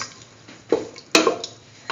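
A spoon stirs a broccoli and potato mixture in a pot, giving a few scraping clinks and knocks at an irregular pace, close and fairly clear, with no talking.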